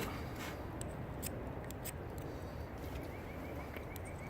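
Scissors snip through round cotton discs, cutting them into quarters or eighths for char cloth, with brief sharp crisp snips scattered over a steady close background rustle.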